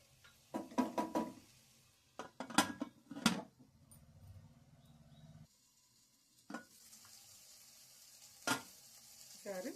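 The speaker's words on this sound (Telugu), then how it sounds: "మళ్ళీ కొద్దిసేపు వేగనిస్తాం" Mutton curry fries in a pan after chili powder is added. A soft, low sizzle sits under a few sharp spoon scrapes and clinks against the pan, with quiet stretches between strokes.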